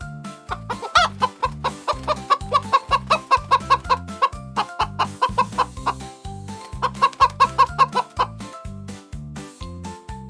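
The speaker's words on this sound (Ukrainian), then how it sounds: "Хто це з нами так розмовляє? Це квочка." A broody hen clucks in a steady, rapid rhythm of low repeated notes, close and clear, with occasional higher trilling calls over the pulsing clucks.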